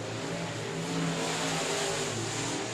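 Sportmod race cars circling South Texas Speedway, a steady blended engine roar at mid distance that holds without a break, with no voices over it.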